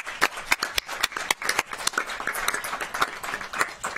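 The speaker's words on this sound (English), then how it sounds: "Let's give them another round of applause." Applause from the audience at a city council session: scattered, moderately close handclaps in an uneven patter that continues for several seconds.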